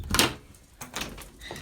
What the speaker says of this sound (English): I'm gonna shut the door again